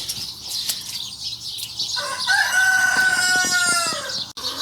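Chickens and a rooster in a garden on a wet morning after a storm: wings flap and birds cluck nearby, then a rooster's crow rises clearly over steady outdoor background noise.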